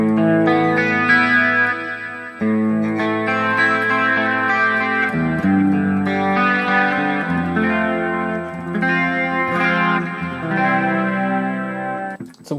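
Electric guitar played through the Marshall clean amp model of a Hotone Ampero multi-effects unit, ringing chords and arpeggiated notes sustained steadily throughout, loud and clear with light modulation and no voices.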